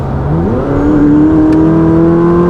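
A 2019 McLaren 600LT accelerates hard, its engine note climbing steadily in pitch and then holding a strong, loud, close drone with no talk over it.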